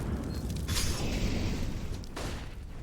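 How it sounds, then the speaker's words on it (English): An HE grenade goes off in a Counter-Strike match on Dust 2, giving a loud broadband blast that rolls over a steady low rumble, with a second burst following about a second and a half later. "There's a Molotov and an HE grenade"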